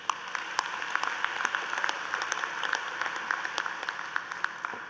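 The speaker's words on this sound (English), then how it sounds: "Give yourself another round of applause." Graduates at a university commencement ceremony applaud in a large hall, a sustained, dense roll of clapping with sharper individual claps popping out over a steady crowd wash.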